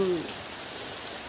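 A brief spell of rain patters on a surface, a soft, steady hiss lasting only a moment.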